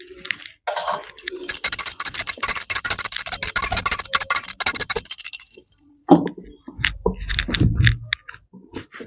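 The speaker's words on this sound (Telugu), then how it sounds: "గంట కొట్టు." A small prayer bell rings during an Ugadi puja at a home shrine, a bright sustained metallic ringing with rapid shaking strikes for several seconds, then fading into soft handling and clatter.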